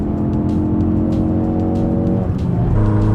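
A Ford Fiesta 1.6 S engine hums loud and close with a steady harmonic drone, then the revs dip and climb again near the end, with no talking.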